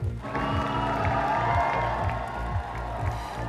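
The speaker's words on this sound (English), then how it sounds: "Cheering crowds greeted him here in Downing Street" A crowd in Downing Street cheers and applauds Keir Starmer as he arrives. The sustained clapping and cheering blend into a loud, continuous roar with scattered shouts.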